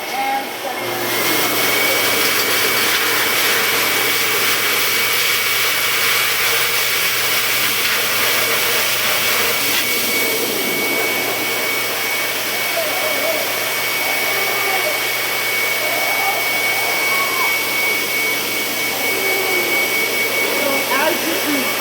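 A pet grooming blower roars loudly and steadily for over twenty seconds as it dries a dog's coat, a faint thin whine running through the rush of air.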